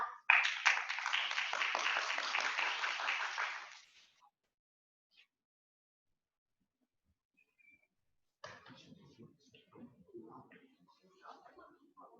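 Applause with whistling from an audience at a college academic festival presentation fills the opening seconds loudly, then fades to silence before a single voice begins speaking.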